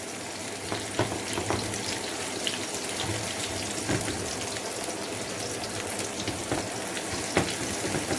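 Onion frying in a pan for white sauce macaroni, a continuous close sizzle with occasional clicks and stirring scrapes, no voices.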